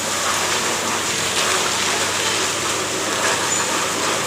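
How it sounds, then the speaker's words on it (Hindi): Steady, dense monsoon rain pours down in Mumbai, a continuous hiss of water falling on surfaces with no voices. "बारिश हो रही है यहाँ पर,"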